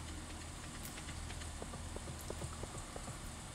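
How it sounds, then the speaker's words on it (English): Steady light rain patters in a farming video game, with scattered small droplet taps and splashes over a constant soft hiss, fairly quiet and without voices. "It's raining green stuff"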